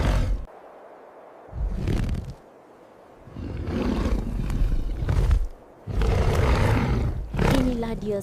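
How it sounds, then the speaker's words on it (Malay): A saber-toothed cat sound effect: loud, deep roars come in several long bursts separated by short gaps, with narration-like voice mixed around them. "Bila ia mengaum, suaranya bergema di seluruh padang salji."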